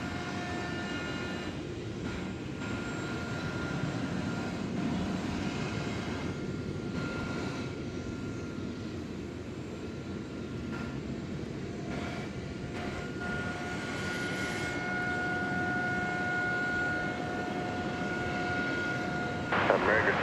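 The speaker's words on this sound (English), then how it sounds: "1685 is this, in Airbus A319. Looks to have been a super smooth landing." Airbus A319 airliner landing at DFW Airport, a steady distant broadband jet roar holding for the full length, with radio chatter and a voice talking over it.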